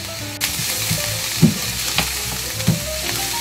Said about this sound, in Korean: 양파를 잘 볶아주도록 하겠습니다.